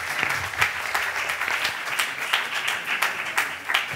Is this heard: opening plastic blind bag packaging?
no